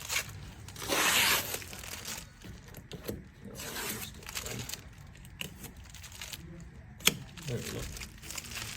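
Plastic factory protection covers are peeled and crinkled off a new 2023 Porsche 911T in a series of close, uneven rustling and tearing bursts, one louder stretch near the start and sharper crackles later, with quiet gaps between.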